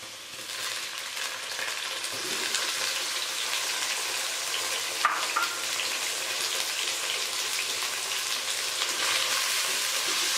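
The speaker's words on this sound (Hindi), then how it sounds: "प्याज थोड़ा सा फ्राई हो गया है तो अब हम इसमें शामिल कर देंगे चिकन।" Cubed chicken and onion sizzle steadily in a hot pan, a dense, even crackle of frying that holds at a constant close level for the whole stretch, with one brief clink of a utensil midway and no voices.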